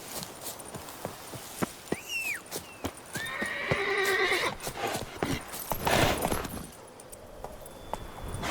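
Geralt's horse Roach in The Witcher 3 whinnies loudly and gallops, with steady clip-clop hoofbeats running throughout, close and clear, and a second neigh partway through.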